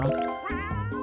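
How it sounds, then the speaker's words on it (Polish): A cartoonish cat meows in the cat-finding puzzle game Cats and Seek Kyoto, a single clear, close meow with a bright chime-like ring over soft background music. "Tutaj mamy kota."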